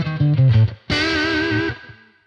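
An electric guitar runs through a Mooer Radar's EL84 power amp simulation, a few low picked notes followed by a bright, distorted sustained chord that rings out and fades, loud and close with no talking.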